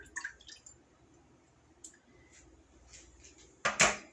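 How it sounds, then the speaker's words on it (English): Almond milk poured from a cup, with a short wet splash and gurgle near the end after a few quiet drips and clicks. "So this is a cup of almond milk, like I said. I'm just going to go ahead and pour that in here."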